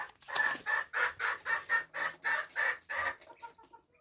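Muscovy ducklings peep in a quick, steady series of short calls, close and clear, about a dozen chirps before trailing off.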